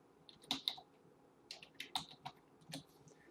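Mouse clicks and keyboard taps sound in quick, faint, irregular bursts while a camera is renamed in Maya 2018. Each click is sharp and close in an otherwise quiet room.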